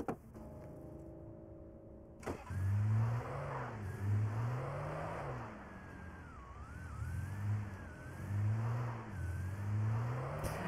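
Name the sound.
car engine accelerating in video game Alan Wake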